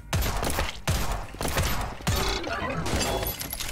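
Gunfire in the cyberpunk western shooter Dust & Neon, four loud close blasts spaced about a second apart, each with a ringing mechanical tail.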